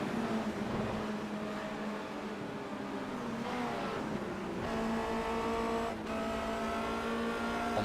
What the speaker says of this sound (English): Let's just check in on the engine sounds and see just how everything's going.